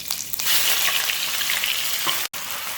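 Onion frying in hot oil in a wok, a loud, steady close-up sizzle with a brief dropout near the end.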